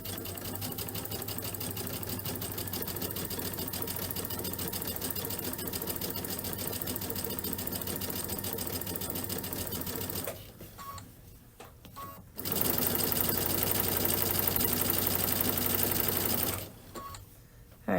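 A sewing machine runs steadily while stitching two parallel gathering rows for a spring pillow, whirring continuously for about ten seconds, pausing briefly, then resuming at the same even pace before stopping again.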